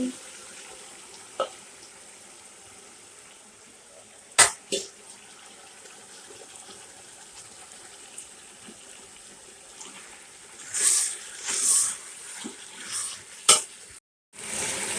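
Marinated chicken dropped into simmering masala and stirred, a soft bubbling simmer with occasional sharp clinks of a spoon against the pot and louder stirring scrapes toward the end.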